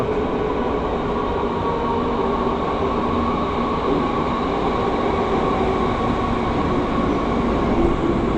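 A train rolls past close by, its loud, steady rumble and rail noise continuous for the whole stretch with no talking over it.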